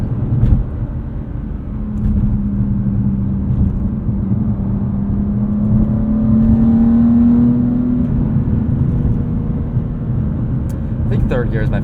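A 2022 BMW M3 with a manual gearbox pulls hard from inside the cabin, its engine droning and climbing steadily in pitch under a loud rumble, with a brief shift near the end.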